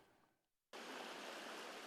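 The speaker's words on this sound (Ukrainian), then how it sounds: "Ось таким плескітом супроводжується шлях риби до водойми." Silver carp poured into the Kremenchuk Reservoir: after a near-silent moment, a sudden loud rush of splashing water bursts in and continues as a steady, close, hissing wash.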